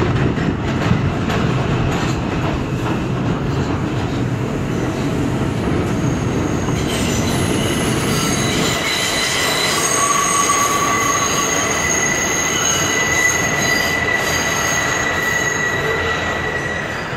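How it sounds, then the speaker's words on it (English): A Brooklyn-bound New York subway 4 Express train runs at speed, its wheels squealing with high-pitched shrieks over a loud, continuous rumble and clatter from start to finish. "This is a Brooklyn-bound 4 Express train."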